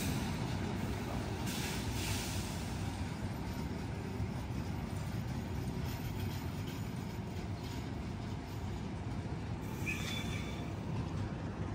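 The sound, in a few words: Kertajaya train from Surabaya Pasar Turi arriving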